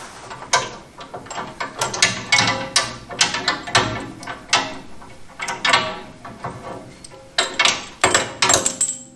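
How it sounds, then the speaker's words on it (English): Upper piece of a Chevy Nova subframe part being unscrewed, producing a rapid series of close metallic ratcheting clicks and clinks in short irregular bursts. "Now to get the upper piece out, which is the real trick. Sometimes you kind of"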